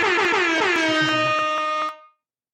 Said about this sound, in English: they get an air horn